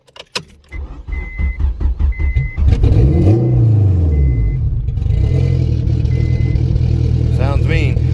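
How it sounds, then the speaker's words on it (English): Tuned car with a boost gauge and fuel pressure gauge cranking over and firing up close by, then revving loudly and settling into a rough, aggressive idle, with keys jangling and a faint chime. "let's go ahead and start this baby up."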